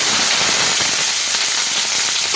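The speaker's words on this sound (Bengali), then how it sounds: "এই সমস্ত কিছু আমি ভালো করে লাল করে ভেজে নেব" Garlic cloves and chopped onion fry in hot oil, giving a loud, steady sizzle that runs unbroken throughout with no voices.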